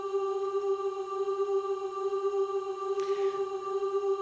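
Steady sustained 396 hertz Solfeggio tone at the pitch of G4 on piano, a pure continuous hum with overtones, even and unbroken, with a brief faint rustle partway through.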